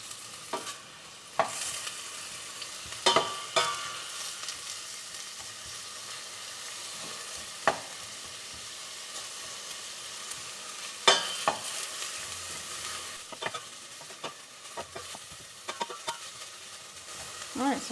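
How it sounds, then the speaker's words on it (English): Onions and seasoning peppers sauté in a pot with a soft, steady sizzle, broken by scattered clinks and scrapes of a spoon stirring, fairly quiet and close, with no voices. "I'm going to saute some onions and seasoning peppers."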